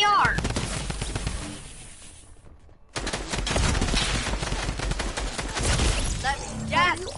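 Scoped assault rifle fire in a first-person shooter game, dense bursts of rapid shots, briefly dropping out mid-clip before a loud resumption with layered gunfire.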